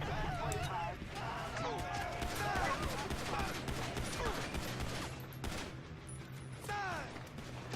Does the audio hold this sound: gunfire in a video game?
yes